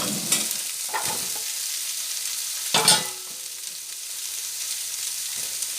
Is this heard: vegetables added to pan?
yes